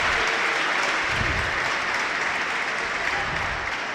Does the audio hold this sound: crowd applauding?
yes